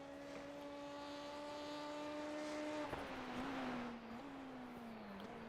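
A Rallycross Lites race car laps the Daytona long course, its engine a steady, faint harmonic drone that dips and climbs slightly in pitch with a few gear or throttle shifts, with no talk over it.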